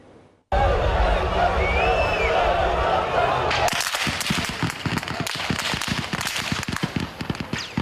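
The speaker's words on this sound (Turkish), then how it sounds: "Silah sesleri İstanbul Boğaziçi Köprüsü girişinden geliyor." After a burst of crowd noise, a rapid series of sharp gunshots cracks out at the Bosphorus Bridge entrance in Istanbul during the July 15 coup attempt, dense and irregular, mixed with distant shouting.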